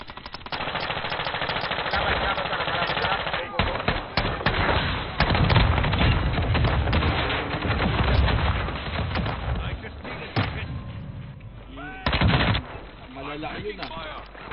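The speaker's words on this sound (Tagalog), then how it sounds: "meron akong baril. Automatic na." Automatic gunfire in a first-person shooter game pours out in long dense bursts, loud and close, with brief breaks and a final short burst, while players chatter excitedly over the shooting.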